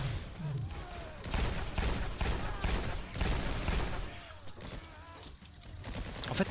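Rapid gunfire from the zombie co-op shooter Revelations 2012 crackles in dense, continuous bursts with thuds and booms, loud and close, with no talk over it.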